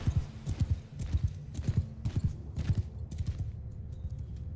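Horses gallop in the Mount & Blade: Bannerlord video game, with a steady run of close, rhythmic hoofbeats and faint background battle noise.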